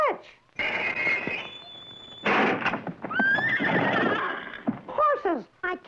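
Cartoon horses neigh and whinny loudly in a Felix the Cat race episode, with clip-clop hooves, a steady tone and a busy soundtrack behind the repeated high, wavering calls.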